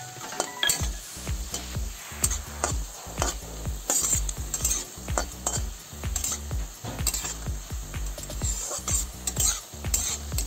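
Cumin seeds frying in oil with chopped garlic and chilli, for a shrimp-head paste: steady sizzle under rhythmic stirring scrapes and clinks of a spoon against the pan, close and fairly loud, with no talking.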